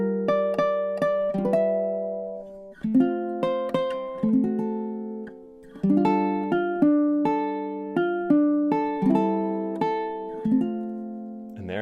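Solo ukulele plays a blues stanza in chord melody style, plucked chords ringing in a steady phrased rhythm with brief pauses, close and clear with no talking.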